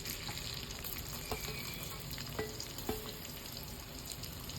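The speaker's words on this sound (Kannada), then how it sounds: "ಈಗ ಈರುಳ್ಳಿ ಹಾಕ್ಕೊಳ್ಳೋಣ." Onion frying in hot oil with shahi jeera and a bay leaf makes a faint, continuous hissing sizzle with a few soft clicks, and no voices.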